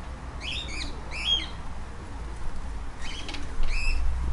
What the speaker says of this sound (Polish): I sobie te gołębie malutko wchodzą.